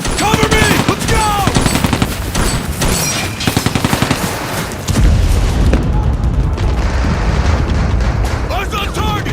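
Rapid machine-gun bursts and booming explosions from a toy-soldier stop-motion battle scene set in the Battle of the Bulge, loud and close, with excited shouting voices between and over the gunfire.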